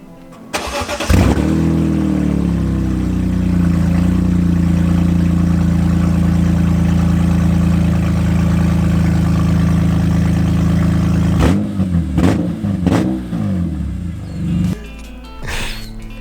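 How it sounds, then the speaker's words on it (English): A BMW E46 M3 with an exhaust section deleted starts with a loud bark, then settles into a deep, loud idle before several sharp revs near the end, raw and unmuffled. "we're gonna check out how the car sounds with the no pipe"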